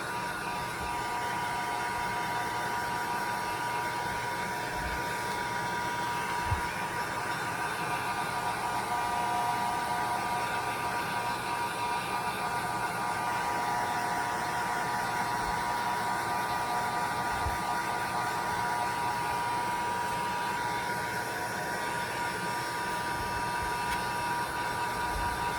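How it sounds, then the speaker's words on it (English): A heat gun blows hot air over a dollar-store wooden carrot decoration, making a steady, loud whooshing whine with a constant tone that runs unbroken throughout, with no talking. "I just put my heat gun on it and just went over it and it'll pop right off."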